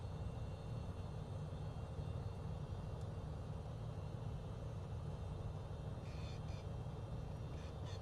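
A plane taxiing in Microsoft Flight Simulator 2024 gives a steady, continuous engine drone with a low rumble, holding the same loud level throughout with no voices.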